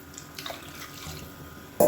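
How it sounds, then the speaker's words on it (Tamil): Water poured into ground masala for a Dindigul-style mushroom biryani makes faint, brief splashing and dripping, ending in a louder gush of pouring at the close. "இப்போ தேவையான அளவுக்கு தண்ணி சேர்த்துக்கலாம்."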